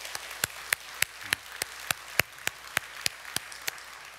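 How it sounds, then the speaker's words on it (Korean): Clapping from a church congregation, heard as a steady series of evenly spaced, sharp claps over a faint background hiss, fairly quiet overall. "우리 하나님께 우리 한번 감사의 박수 같이 올려드립시다."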